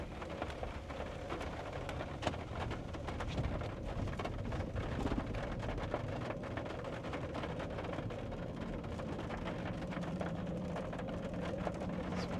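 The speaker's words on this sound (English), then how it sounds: "the rain is here" Rain falls steadily during a storm chase in severe weather, a constant dense patter with low rumbling that may be distant thunder, heard alone without talking.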